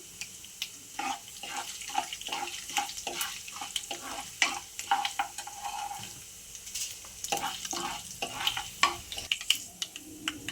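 Chana dal and urad dal are roasted in a pan, a soft dry rattle and scrape as the lentils are stirred, faint sizzling under irregular stirring strokes, close and quiet.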